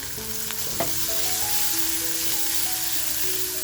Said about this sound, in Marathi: लसूण बघा लालसर झाल्यानंतर कांदा टाकून घेते